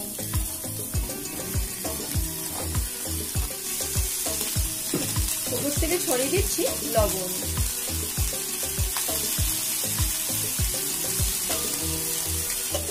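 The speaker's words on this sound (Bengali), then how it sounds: "এবার কুমড়ো, আলু আর পুঁইশাকটাকে হালকা করে প্রথমে ভাপিয়ে নেব।" Pumpkin, potato and Malabar spinach cooking in a hot wok on a gas stove, a steady close sizzle with rhythmic stirring scrapes throughout, a brief splash of added water midway, and a voice speaking over it.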